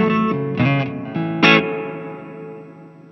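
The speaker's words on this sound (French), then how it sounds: "La reverb à ressort, on va jamais l'éteindre." Electric guitar played through a pedalboard with spring reverb always on, a few sustained chords with distortion ringing out and decaying into a reverb tail, no voices.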